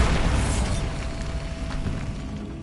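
A Bombarda explosion spell from Hogwarts Legacy erupts in a crumbling catacomb, a loud deep boom that fills the space and slowly decays into a rumbling, debris-laden tail.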